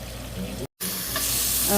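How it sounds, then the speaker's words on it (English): Bacon fries in a little oil in a pan with a steady, close sizzle and crackle, briefly cut out once, then rising slightly louder. "Amaya is frying that bacon up pretty good"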